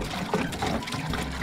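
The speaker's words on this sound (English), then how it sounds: "We're filling up the tank with water." Water filling the tank of a toy truck, a close, continuous gurgling splash and trickle with bubbly, uneven churning across the whole stretch, no voices over it.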